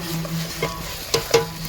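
Ginger garlic paste fries in a pan for chicken gravy, with a soft sizzle under a few distinct scraping strokes of the stirring spoon, close up and without speech.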